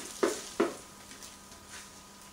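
An omelette cooking in a pan, with two quick scraping stirs near the start followed by a soft, steady sizzle that fades under a quiet background.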